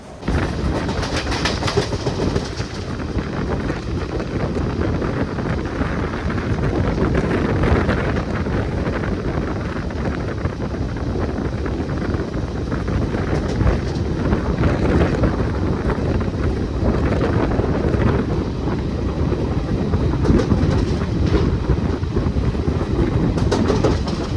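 The Thiruvananthapuram-Kozhikode Jan Shatabdi express runs steadily, a continuous loud rumble of rail wagons with faint clickety-clack and heavy wind buffeting throughout, no voices.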